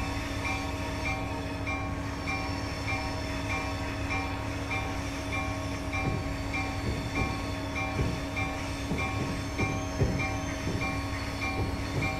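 An Acela Express train in Train Sim 2018, on the New Haven to New York line, rumbles steadily with a constant droning hum and rhythmic wheel clatter building midway, loud and with no talk.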